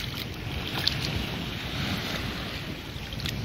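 Steady wind rushes over a beach in Thailand, with surf washing in a constant broad roar and wind buffeting the microphone, no voices present.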